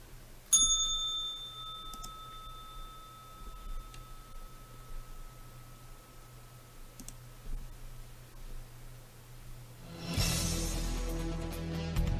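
A bicycle-style bell rings sharply once at the close of a trading show, its clear tone ringing on with a few faint clicks. A louder burst of broadband noise enters near the end.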